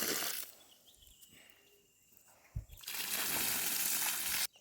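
Water splashes from a vessel onto watermelon plants in a village field in two bursts, a short gush, a quiet pause with faint drips, then a longer steady pour close by.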